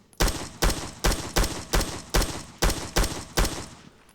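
An M16 rifle with a 30-round magazine fires in Rising Storm 2: Vietnam, nine loud, evenly spaced gunshots about half a second apart, each with a short echoing tail, and no talk.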